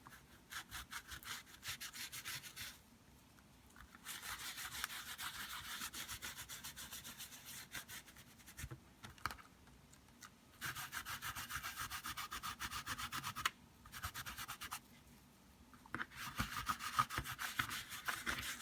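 Distress crayon colour is scrubbed off a surface with a wet wipe in quick back-and-forth rubbing strokes, soft and close, coming in bursts separated by short pauses.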